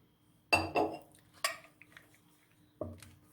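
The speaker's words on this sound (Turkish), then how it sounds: "Çekirdekleri ayıklanmış tabii ki de yıkanmış kirazlarımızı tencereye döküyoruz." A few clattering, clinking knocks of washed, pitted cherries tumbling into a metal cooking pot, in two quick bursts followed by a third after a pause, close by.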